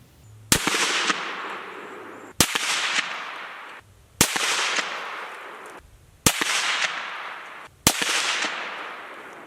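Five loud, sharp rifle shots from a Q Trash Panda fired without a suppressor on a range, spaced roughly two seconds apart. Each crack is followed by a short, ringing decay.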